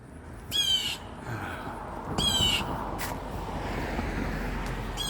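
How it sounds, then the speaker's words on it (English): A loud, harsh blue jay call rings out twice, then a shorter cry, over a steady outdoor hum with faint traffic. "that bird you hear there is a blue jay"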